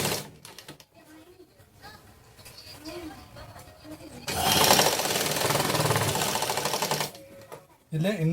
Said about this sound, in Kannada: ಇಲ್ಲೊಂದು ಫಸ್ಟು ಸ್ಟಿಚ್ ಮಾಡ್ಕೋರಿ